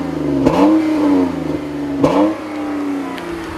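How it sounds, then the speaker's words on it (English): A 2015 Chrysler 200 V6 car engine revs up twice, a throaty, rising growl with a sharp shift between pulls, close and steady. "I wasn't expecting this engine to sound so throaty, but it actually does sound pretty good."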